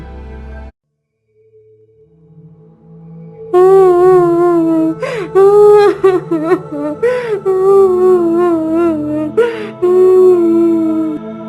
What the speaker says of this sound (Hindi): यह रोने की आवाज कहाँ से आ रही है?